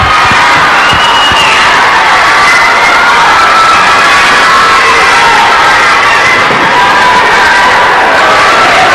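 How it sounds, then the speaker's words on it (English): A dense, loud arena crowd at a high school hockey game roars and cheers continuously after a hard hit at the blue line, filling the whole stretch with sustained shouting. "Crowd appreciates that."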